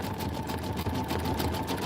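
A sewing machine runs at a slow, steady stitch in a sewing and vacuum shop, a continuous mechanical whir with a faint rhythmic pulse, close and moderately loud throughout.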